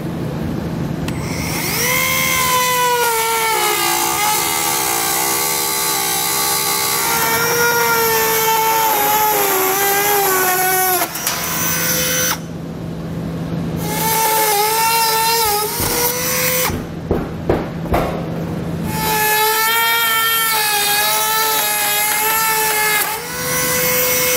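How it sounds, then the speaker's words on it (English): A Dremel rotary tool whines at high speed while cutting thin plastic bumper fascia on a 2022 Subaru Forester during a trailer hitch install. The pitch sags and recovers as the bit bites, and there are brief pauses between cuts. "to speed things up, I'm just going to use my Dremel tool here"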